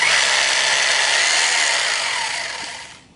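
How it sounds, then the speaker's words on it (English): A hammer drill bores into concrete, a loud, steady grinding that runs continuously for a few seconds, then winds down and stops. "drill the holes for all the feet"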